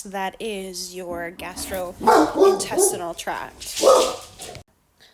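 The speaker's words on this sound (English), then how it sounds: "Sorry about the dog barking." A dog barks and yips several times in the background while a person lectures close by, the barks coming in a short irregular cluster under and between the talking.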